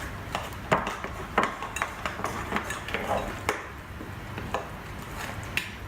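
Cornbread batter being mixed in a bowl, with a utensil clinking and scraping against the sides in irregular taps and knocks, fairly quiet and close, with no talk over it.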